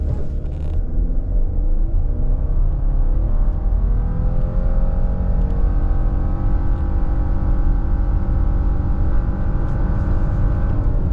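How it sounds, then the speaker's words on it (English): A 2025 Subaru Outback Touring launches hard from a stop with traction control off at about 4,200 feet density altitude, engine droning loud and steady as revs climb through the gears over roughly eleven seconds, with no talk. "0 to 60 in the Touring."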